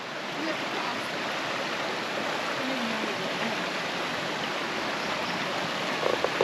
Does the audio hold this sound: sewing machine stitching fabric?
no